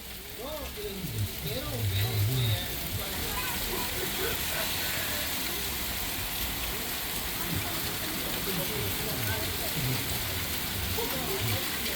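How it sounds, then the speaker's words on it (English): Hail pattering steadily on a surface outside during a Wisconsin Dells tour, a dense continuous rattle with scattered knocks, while people talk faintly underneath. "Oh boy, it's hailing out now."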